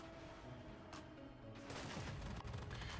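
In a tank video game, an Object 195 tank fires its main gun, a dull boom followed by a rumbling burst of gunfire and explosions that fill the end of the clip, heard alone at moderate level.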